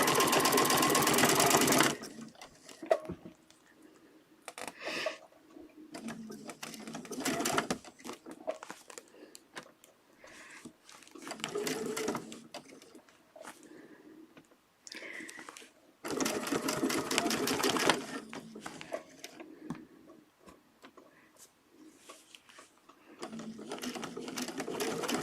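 A sewing machine stitches over earlier stitching for a feather template, running in loud bursts of rapid needle chatter split by quieter pauses with fabric handling and rustling.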